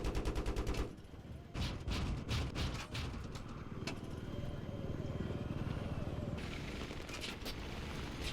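Gunfire in the Battlefield 3 video game: repeated shots and bursts rattle throughout, loud and close, mixed with other game noise while people talk over it.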